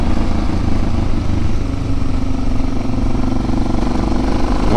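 Dual-sport motorcycle on loose, soft dirt with knobby tires, its engine droning steadily and loudly throughout with a constant mid-range rumble and wind noise, no voices.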